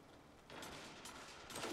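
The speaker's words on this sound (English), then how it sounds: "He shot two Witherhorde shots." Two Witherhoard grenade-launcher shots in Bungie's Destiny land as faint, dull booms in quick succession against quiet background noise, with no talking.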